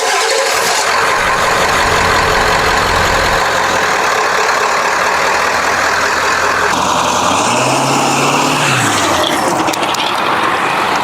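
A stock Ford 7.3 Powerstroke diesel pickup engine runs loud and close, a dense steady clatter and rumble with a rising then falling rev partway through.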